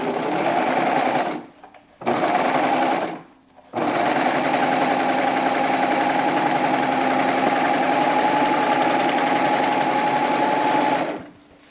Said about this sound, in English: Lower your presser foot and go ahead and serge that side.